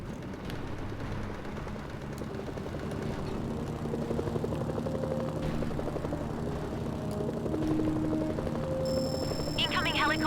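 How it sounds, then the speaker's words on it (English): Helicopters rumble in the war video game Mercenaries: Playground of Destruction, a dense, steady rotor drone that swells slightly over ten seconds amid other game sounds and a short rising tone near the end. "Incoming helicopters. They'll tear through the tanks."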